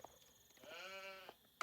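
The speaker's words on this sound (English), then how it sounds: "Did the sheep bleat? Is that what it's called? Sheep bleating?" A sheep in a real-time strategy game lets out a single short, wavering bleat, faint and alone against a quiet background, followed by a brief click.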